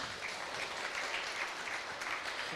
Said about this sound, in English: Round of applause, please, for both teams on stage.